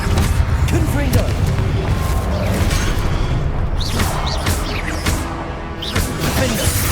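Explosive Confringo spells go off in Hogwarts Legacy amid a busy combat soundscape of booms, crashes and whooshes. Dense and loud throughout, with several sharp bursts layered over a rumbling background.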